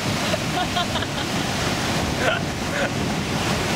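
Ocean surf rolls at Isabela, Puerto Rico, a loud continuous wash of breaking waves mixed with wind buffeting the microphone, steady throughout with a faint voice briefly audible.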